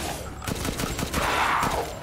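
Rapid gunfire in Resident Evil Village, a quick run of about ten evenly spaced sharp shots cracking in a steady rhythm, followed by a brighter hissing sweep, with no talk over it.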